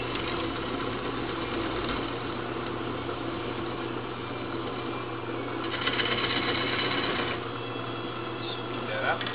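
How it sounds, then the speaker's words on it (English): A wood lathe runs steadily while a bowl is turned, giving a continuous motor hum and whir with a brief rougher scraping stretch partway through. "Fire up the lathe."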